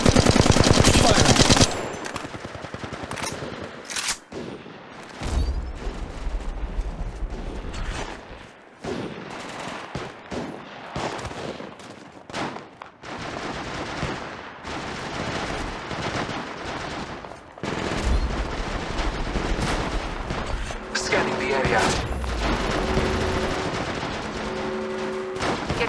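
Rapid bursts of automatic gunfire in Apex Legends Mobile crackle loud and close, with staccato volleys, short pauses and dense stretches of shooting, plus in-game effects and brief tonal cues layered throughout.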